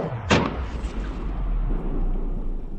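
A cannon fires chain shot loaded with fine chain: one sharp, loud blast near the start, followed by a rumbling low tail and lingering echo.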